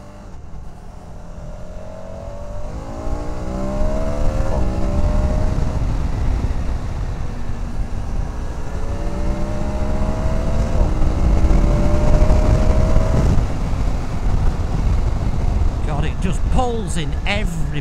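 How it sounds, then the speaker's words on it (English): KTM 1290 Super Adventure S motorcycle engine while riding, a steady loud drone with rising and falling rev sweeps as it moves through the gears, carried under wind noise for the whole stretch. "I'm going to talk about the engine as we're riding"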